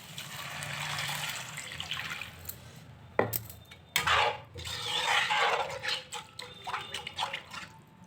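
Hot water is poured into a simmering mushroom, pea and cauliflower masala gravy, a soft continuous splash followed by sizzling bursts and light clinks of utensils against the pan.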